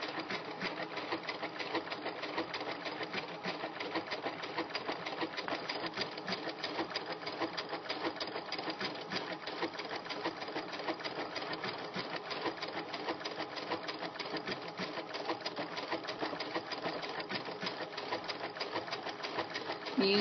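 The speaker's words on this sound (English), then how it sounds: "I'm going to sew this very slowly to make sure that I get it" A sewing machine stitching slowly with a wing needle while hemstitching along drawn threads, its steady rapid mechanical chatter running continuously and close, fairly quiet, with no talk.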